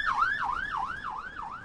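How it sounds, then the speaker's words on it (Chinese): An ambulance siren wails on a road beside the Beirut port explosion site, a loud, close, rising-and-falling cycle repeating about every third of a second, with no talk over it. "我们看到这个救护车是刚刚从这个道路上驶过"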